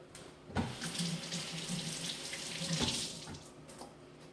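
Onions are washed under a running kitchen tap, a steady close stream of water splashing with a few louder splashes as they are handled.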